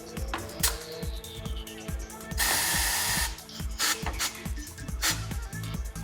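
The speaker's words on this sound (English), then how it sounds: "The bead roller is locked on the mounting arm and lowered onto the tire bead." A TW X-93 tyre changer's bead roller, locked on the mounting arm, lowers onto a tire bead with a steady run of mechanical clicks and ratcheting thumps, plus a brief loud pneumatic hiss burst midway.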